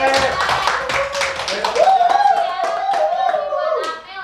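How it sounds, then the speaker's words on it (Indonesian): A small group in a classroom claps hands for classmates, loose clapping mixed with a teacher's voice speaking over it, fading out at the end. "tepuk tangan dulu yang Boleh"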